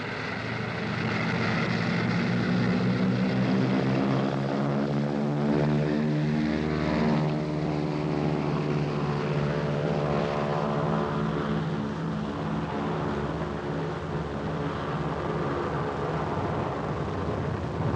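A propeller plane drones steadily throughout, its loud engine hum rising and falling slightly in pitch as it passes, with no voices.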